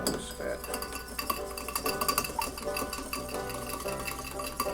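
Whisk beating an egg into buttermilk for blueberry pancake batter: quick, irregular clinks and scrapes against a bowl, close and fairly quiet, with faint background hum.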